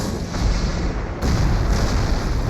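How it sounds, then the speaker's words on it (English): Heavy artillery fires without pause in a WWII battle against German positions, a dense, loud, continuous rumble of guns and blasts that swells into a heavier barrage partway through. "The heavy artillery clears the Germans"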